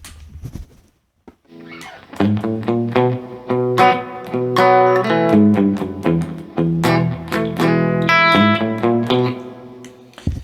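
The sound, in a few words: electric guitar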